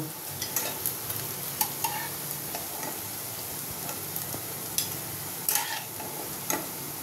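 Bombay duck (lote fish) fritters fry in hot oil in a home kitchen, giving a steady low sizzle with occasional sharper pops and light clicks throughout, close and moderately quiet, with no talking.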